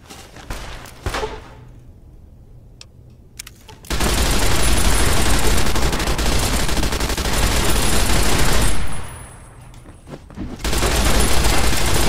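Video game gunfire in Fallout: New Vegas during a Giant Deathclaw bounty: a few sharp shots, then long, loud sustained bursts of rapid automatic fire that pause briefly and resume.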